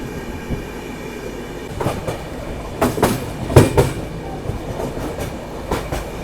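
Garib Rath Express running from Jabalpur toward Mumbai, a steady rumble of wheels on rail with scattered clacks and a few louder jolts over joints, heard from on board with no talk.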